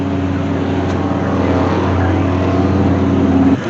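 A duct-taped Cadillac drag car at a Tucson duct tape drag race roars loudly and close with a steady engine note that climbs slightly just before cutting off.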